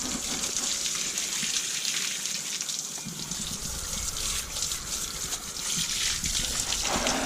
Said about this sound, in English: So just get that water and wash it off.